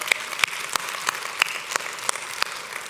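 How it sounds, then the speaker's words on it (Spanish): A church congregation claps for the Lord, a fairly quiet crowd applause carrying a steady rhythmic beat of sharper unison claps roughly three times a second over a softer wash of scattered hands. "Denle otro fuerte aplauso al Señor."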